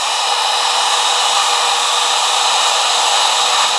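Heat gun blowing hot air onto a sun-faded plastic wiper cowl on a car: a loud, steady, close airy roar that holds constant without a break and has no talking over it.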